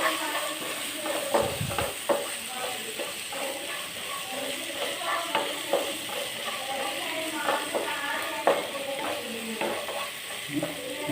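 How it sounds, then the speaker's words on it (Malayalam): Turmeric powder stirred into Kerala-style nadan chicken curry frying in a pan: steady sizzle with repeated close scraping strokes of a spoon, and a low murmur of background voice now and then. "മഞ്ഞൾപ്പൊടി ഇട്ട് കൊടുക്കാം. നല്ലവണ്ണം ഇളക്കിയിട്ട്"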